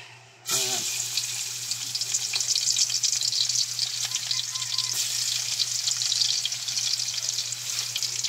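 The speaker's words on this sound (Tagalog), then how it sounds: "naglagay na tayo ng mantika at atin na rin ilalagay ang bawang" Garlic dropped into hot cooking oil in a pan starts a loud, steady sizzle that crackles continuously and up close, with no talk over it.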